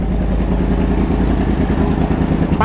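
Loud, close motorcycle engine idling and rumbling steadily with a rough, pulsing clatter, continuous for the whole stretch.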